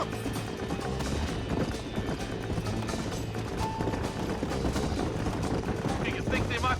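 A horse gallops in the Red Dead Redemption video game, rapid hoofbeats drumming under busy game noise and faint voices.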